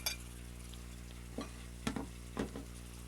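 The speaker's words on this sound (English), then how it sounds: "we're just going to let them saute" Meat sautéing in a hot pan with a little sauce and its own juices gives a steady low sizzle, broken by a few short stirring scrapes and clinks near the end, with no talking.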